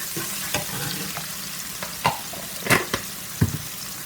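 Pureed red onion hits a hot pan and sizzles steadily, with a constant close frying hiss broken by occasional stirring scrapes and clicks.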